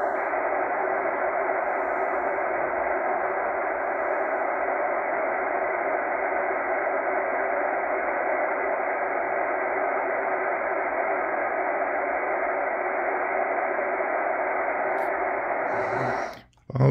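The Buzzer on 4625 kHz, a shortwave signal received on a Kenwood R-5000 receiver, drones as one continuous, unbroken buzzing tone over faint static for about sixteen seconds, fairly loud and alone, stopping abruptly at the end.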